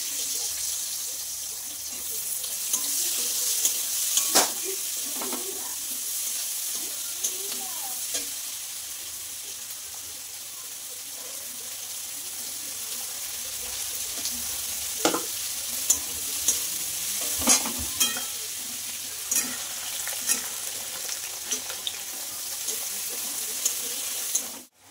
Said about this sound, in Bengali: দেখো এদিকে আমার পেঁয়াজটা ভাজা হয়ে গেছে